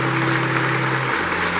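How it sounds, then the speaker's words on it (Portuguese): A church congregation claps during a Catholic service, a short burst of crowd applause over a sustained keyboard or organ drone that shifts pitch partway through. "Vamos aplaudir a palavra de Deus."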